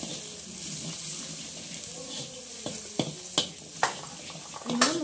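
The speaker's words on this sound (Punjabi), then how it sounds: "ਬਸ ਹਲਦੀ ਚੰਗੀ ਤਰ੍ਹਾਂ ਭੁੱਜ ਗਈ ਨਾ," Turmeric, garam masala, kitchen king masala and green chilies frying in a pan on a stove, a steady soft sizzle with a few sharp scrapes of stirring near the end.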